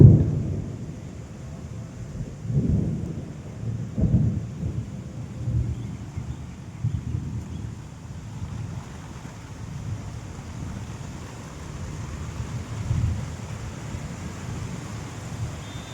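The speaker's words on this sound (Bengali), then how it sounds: "বৃষ্টি শুরু হয়ে গেছে" Rain falls through a thunderstorm as a steady wash of noise, broken by low rumbling thunder swells and gusty wind buffeting the microphone, with no one speaking.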